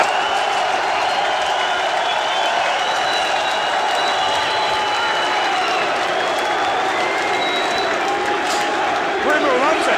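A packed wrestling arena crowd roars and cheers in a steady, dense wall of noise with scattered whoops, while a commentator talks over it throughout.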